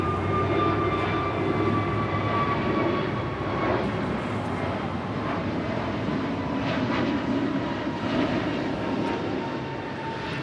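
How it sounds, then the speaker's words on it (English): An Alaska Airlines Airbus A321neo departs LAX with a loud, sustained engine roar and steady tonal whine that fills the whole stretch without letting up. "1301 departing to Seattle on an A321neo in the Mortalove livery."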